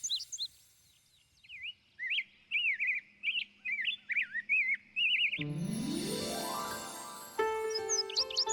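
A cartoon sparrow chirps in a rapid series of short, high, bright tweets for about five seconds, clear and close, before a swell of music takes over.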